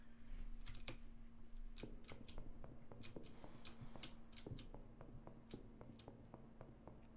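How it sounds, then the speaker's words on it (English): Faint, close clicking and tapping at a computer desk, a steady scatter of sharp light clicks over a low hum, with no voices. "I'll be able to hear the mouse click on that"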